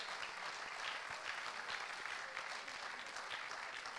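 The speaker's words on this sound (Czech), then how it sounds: "No a v tuto chvíli můžete jim zatleskat, přátelé, můžete jim zatleskat" A crowd at an outdoor folk dance competition applauds the jury of a Slovácko verbuňk dancers' contest, a dense, steady wash of many hands clapping throughout, fairly distant and even, with no voices over it.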